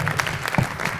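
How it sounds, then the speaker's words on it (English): Audience applause at an evening internet safety talk, a short stretch of scattered clapping over a low room rumble, fairly close and moderately loud. "A round of applause."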